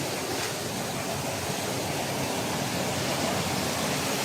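Strong river current rushes past, a dense, steady broadband roar of flowing water close by, unbroken and without voices.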